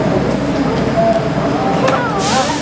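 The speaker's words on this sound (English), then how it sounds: "There's a train in Saudi." Steady rumbling interior noise of a moving train in Jeddah, Saudi Arabia, loud and close, with some faint voices and a brief higher whine near the end.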